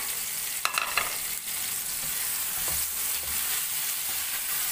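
Tomato and spice masala sizzles steadily in a pan as it is stirred, a constant bright hiss with a few clinks at the start and low scraping strokes.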